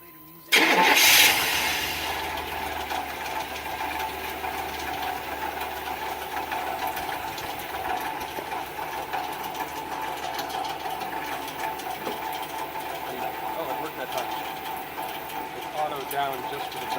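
A 1997 Chevrolet Suburban, just jump-started after a dead battery, cranks and catches with a sudden loud burst. It then settles into a steady, continuous idle that runs close and even for the rest of the stretch.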